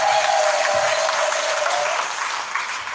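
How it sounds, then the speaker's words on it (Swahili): A church congregation at a fire conference applauds Jesus, producing dense, sustained clapping from a large crowd that fills the space steadily and fades slightly toward the end. "Pigie Bwana Yesu makofi."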